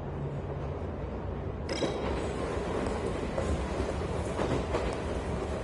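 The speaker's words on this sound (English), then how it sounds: "I'll take this train to the last stop" A train in the video game 13 Sentinels: Aegis Rim rolls along its rails with a steady, dense rumble, and a sharper clatter cuts in partway through and keeps up faint rhythmic clicks to the end.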